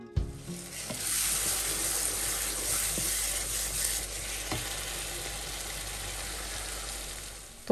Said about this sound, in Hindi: बिरयानी के लिए जो है वो मैंने सबसे पहले तड़का तैयार किया